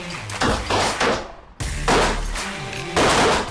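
A Beretta 21A Bobcat compact pistol fires at pop cans from 10 yards at an outdoor range, several loud, sharp shots spaced roughly half a second apart, with a short pause before the shots resume.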